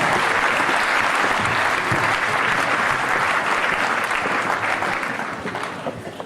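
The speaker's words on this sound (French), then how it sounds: "Avec les applaudissements encore, on vous raccompagne dans les coulisses." Loud, dense audience applause as choir performers leave the stage at a hospital staff event, steady for several seconds and then tapering off slightly toward the end.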